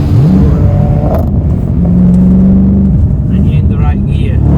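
An Audi RS4 B7 in sport mode revs hard on a back road, engine and exhaust loud and close with rising and falling pitch sweeps as gears change, while someone talks over it.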